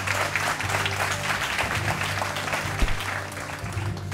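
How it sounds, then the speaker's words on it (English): An audience applauds steadily at a Dallas civic gathering, a dense continuous wash of clapping with a low hum underneath, no speech over it. "I'd like to give you a round of applause."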